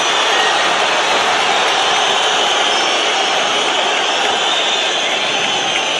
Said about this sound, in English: And Assu is free, and listen to the crowd respond.